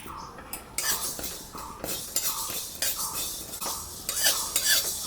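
Mustard seeds fry lightly in a pan with a little water while a utensil stirs and scrapes against the metal in short repeated bursts, with faint sizzling beneath.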